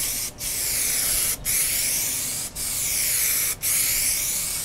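Steady spray gun hissing paint onto a motorcycle fairing in four long bursts, each broken by a brief pause, close and loud with no talking.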